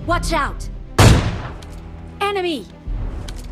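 Gunfire in a battlegrounds mobile game lands a body shot on an enemy, one loud close blast followed by a decaying tail, with someone talking before and after.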